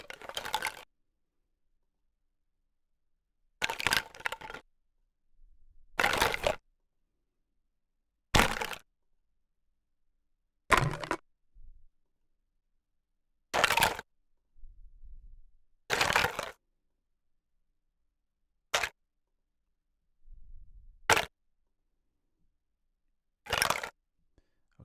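Looped percussive hits recorded from striking plastic baby doll legs repeat as sharp, hollow cracks and knocks, arriving in short bursts separated by silence.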